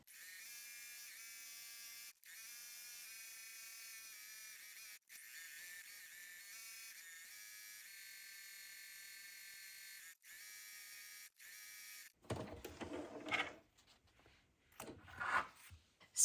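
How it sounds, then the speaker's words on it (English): A sewing machine stitches around a paper collage, its motor whirring steadily in long runs broken by brief stops, then gives way to paper rustling and handling at the end. "wildly sewing around this with my sewing machine"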